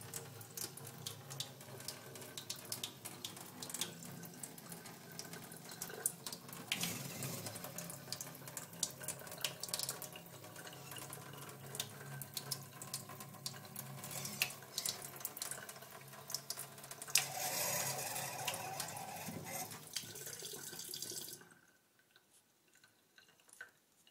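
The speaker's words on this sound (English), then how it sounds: "What I'm going to do is I'm going to run the water" Water runs from a faucet into a stainless steel sink, a steady splashing hiss that carries on for about twenty seconds before cutting off abruptly into near silence.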